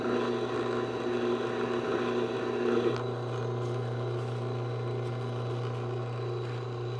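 A Tormek sharpening system polishing the edge of a blade's bevel, giving a steady motor hum with a continuous grinding whir, a little louder at the start, running alone without talk.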